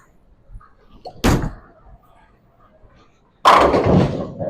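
A bowling ball strikes the pins at a bowling lane, heard as a sharp crash, then after a quiet stretch a second loud, sustained clatter of pins, both close and distinct.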